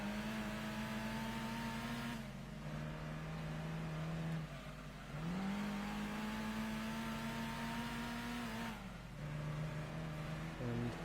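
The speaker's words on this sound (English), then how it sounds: "Over-revving a little bit there" Car engine in Gran Turismo 2, revving hard through the gears during a German national championship race against BMWs, a steady loud drone that climbs in pitch, drops at each gear change, then climbs again.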